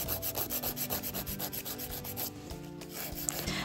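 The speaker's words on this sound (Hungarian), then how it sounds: "Bematítom a köröm felületét egy 150-es reszelővel." A 150-grit nail file rubs rhythmically across a fingernail surface during a gel manicure, producing quick, soft, regular scratching strokes heard close and alone.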